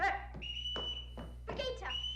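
Short whistle signals blown to call children forward in a family home scene from The Sound of Music (1965): a sustained tone with several separate sharp bursts, mixed with faint speech over a low steady hum.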